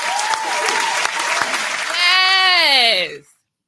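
A small audience claps for a business owner and founder being introduced, steady applause that swells briefly before a drawn-out bleating cry rises over it, then everything cuts off abruptly.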